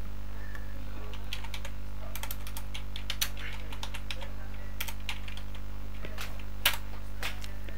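Rapid, irregular clatter of typing on a computer keyboard, steady keystrokes in short bursts over a constant low electrical hum, close and fairly quiet, with no talking.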